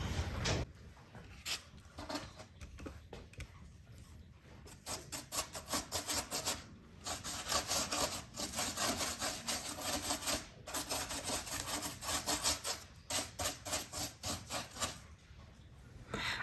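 A paintbrush works paint onto a wooden model in a miniature neighborhood scene, making soft, steady rubbing and scratchy strokes in a repeating rhythm, close and quiet, with no talking.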